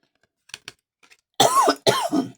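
A person coughs close up, with a few soft throat sounds at first and then two strong, rough coughs in a row, no speech heard.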